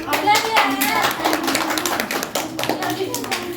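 Children and teachers clap their hands during a school Children's Day celebration. The clapping is close and uneven, with quick bursts continuing throughout amid voices.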